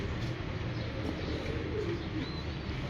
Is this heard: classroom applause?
no